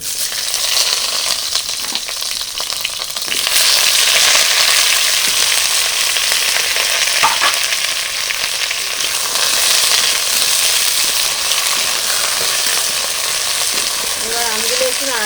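Cut raw mango pieces dropped into hot oil with tempering spices for chutney, a loud, steady frying sizzle that swells after a few seconds and runs on unbroken, with faint clinks of utensils.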